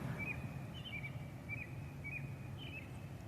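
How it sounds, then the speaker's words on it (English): A robin sings up in the trees outside a church, a series of short, faint chirping phrases repeated at an even pace above a low, steady background rumble. "there's a robin up in the trees."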